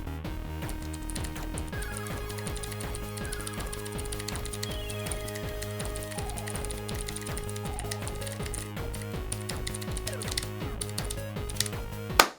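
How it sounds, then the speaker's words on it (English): Rapid, steady clacking of keystrokes on a tiny mechanical keyboard, close and fairly loud, with dense rhythmic clicks continuing throughout and a sharper thud right at the end. "the typing experience of this keyboard is so amazing"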